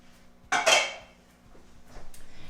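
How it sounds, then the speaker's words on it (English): Melted butter and Frank's Red Hot sauce being mixed in a bowl: a couple of quick, close clinks and scrapes of a utensil against dishware, followed by quieter faint stirring. "I need to mix together 2 tablespoons of melted butter, half a cup of Frank's Red Hot Original Sauce"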